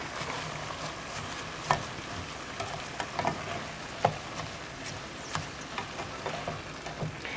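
Two cups of rice are stirred into a pan with tomatoes and their juice for a not-quite paella, producing a soft, steady sizzle and irregular scraping and clinking from the spoon.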